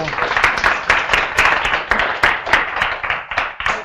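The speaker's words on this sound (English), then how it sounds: "let's applaud you for excellent" Audience applause at a seminar on social work for children and parents, dense clapping from many hands continuing steadily at fairly close range with some chatter mixed in.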